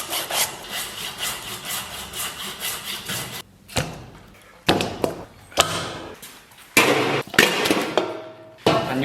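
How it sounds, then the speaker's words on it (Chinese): A saw cuts through tough beef hooves in bursts of rhythmic back-and-forth strokes, loud and close, broken by short pauses and a few knocks and clanks between passes. "然后咱们把牛蹄再给它锯成小节"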